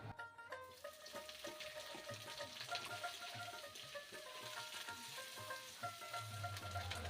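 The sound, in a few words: dried fish frying in hot oil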